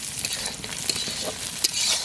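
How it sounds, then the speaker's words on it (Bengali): Onions sizzle and crackle steadily in a hot pan, with a few sharper scraping stirs breaking through. "পেঁয়াজটা আমাদের ভাজা চলছে"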